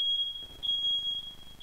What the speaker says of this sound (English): there goes my house fire alarm